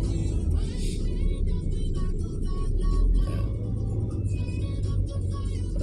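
Dense road traffic around BGC in Taguig, heading toward Mandaluyong, heard from inside a vehicle as a steady loud engine and tyre rumble that continues without a break.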